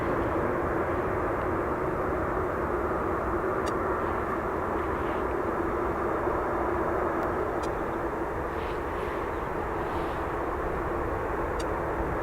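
A Ryanair jet takes off from runway 28 right at Dublin Airport, its engines a loud, continuous broadband roar that holds steady without a break for the whole stretch.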